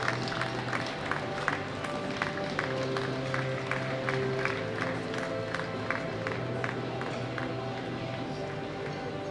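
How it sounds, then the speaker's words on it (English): Audience at a powerlifting championship claps steadily, a moderate patter of many hands with distinct individual claps standing out, continuing without pause for roughly nine seconds at a medium distance. "Ladies and gentlemen, give a strong applause for these Australian listeners"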